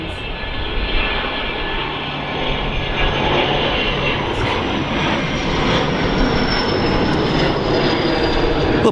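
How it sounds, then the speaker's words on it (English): A small business jet roars past at Manchester Airport, a loud, steady broadband engine rush that swells slightly over about nine seconds, heard alone without speech. "Little bizjet there"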